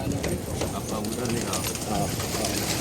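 Pigeons at a fight-pigeon loft coo softly amid a busy, noisy background with overlapping voices and rustling, the low throaty calls close but partly masked.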